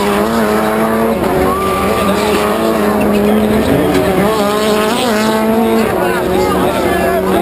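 Rallycross race cars slide through a hairpin turn on a speedway circuit, engines wailing and shifting pitch continuously with tire scrub, loud and close, while a commentator talks over the racing throughout.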